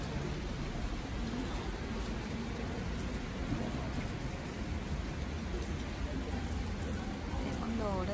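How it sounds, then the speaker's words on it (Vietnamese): Heavy rain pours steadily in Germany, a dense continuous hiss heard from shelter in a shop doorway, with a voice talking over it. "Mưa rơi, mưa rơi, mưa ơi là rơi."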